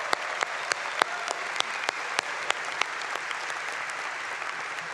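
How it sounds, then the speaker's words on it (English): A commencement crowd applauds students in a steady, fairly distant wash of clapping, with a few sharper individual claps standing out, no talk over it. "join me in one more round of applause for our fantastic"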